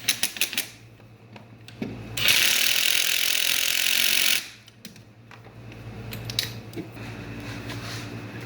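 A fitting on the turbo intake piping of a 2004 Cavalier build is being tightened, with a close, steady two-second run of ratcheting. Scattered light clicks and handling noises come before and after it.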